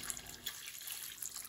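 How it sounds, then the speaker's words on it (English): Water pouring from a tap into a cooking pot holding broccoli, carrot, onion and celery for soup, a steady close hiss of running water throughout with no talk. "Add on them water."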